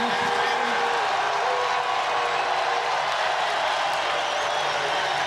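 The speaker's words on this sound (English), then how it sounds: "listen to the crowd." Dense roar of a rugby stadium crowd at Athletic Park as the Hurricanes take the field against the Brumbies in 1997, a steady broadband wash of cheering and noise held loud throughout without a break.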